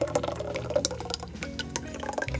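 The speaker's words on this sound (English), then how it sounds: "You're just going to pour it in." Soup base poured into a cooking pot, a close liquid splashing and trickling that runs steadily for a couple of seconds and cuts off near the end.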